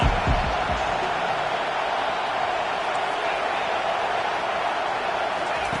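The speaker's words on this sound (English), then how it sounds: "Decibels rising as the crowd gets behind this defense on 3rd down." Video game football crowd cheering on 3rd down, a loud continuous roar of noise filling the stadium, steady throughout.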